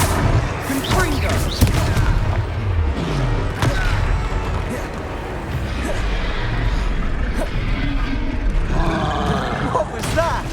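Fiery Confringo spell blasts in a Harry Potter video game boss fight, loud booming explosions and crackling impacts layered through dense battle noise, with voices calling out over the chaos.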